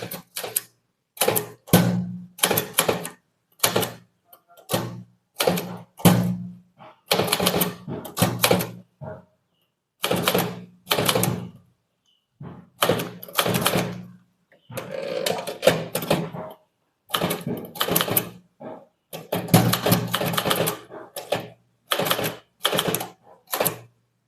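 Typewriter keys struck in rapid bursts while typing English letters, loud and close, with clacking runs separated by short pauses, and no voices.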